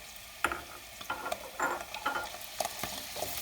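Onion and meat sizzle in a pot while a utensil stirs, with scraping clicks and bursts of crackle at an uneven pace, close and fairly loud.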